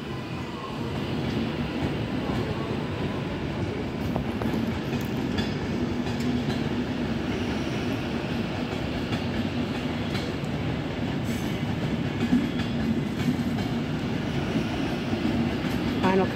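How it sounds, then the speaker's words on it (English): A Northern Class 331 electric multiple unit departs Manchester Piccadilly, giving a steady, loud rumble of wheels on rail with faint clickety-clack throughout, the station's ambient din beneath. "Also departing is the Northern. 331-007."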